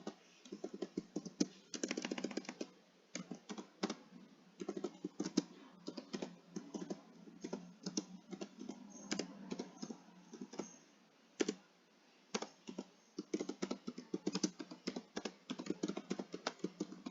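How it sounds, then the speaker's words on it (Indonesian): Someone types on a computer keyboard while editing text, with fast bursts of light clicky keystrokes, occasional pauses and single taps, close and fairly quiet, with no talking. "Tinggal diklik, hapus, backpass, kemudian diketik."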